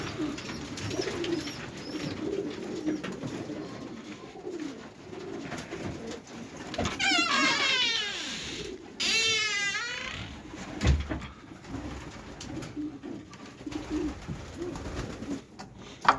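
Young ringed racing pigeons cooing inside a loft: soft, repeated coos and warbling calls rise and fall at close range, some sounding like faint squeals, over a quiet background with no talking.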